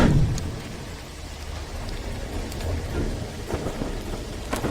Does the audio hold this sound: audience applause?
no